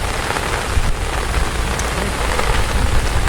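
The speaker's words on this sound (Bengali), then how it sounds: "বৃষ্টি আবার শুরু হয়েছে একেবারে অনেক পরিমাণ।" Heavy rain pours steadily over a village setting where bamboo shrimp traps are being checked, a dense, loud continuous hiss with low rumbling underneath and no voices.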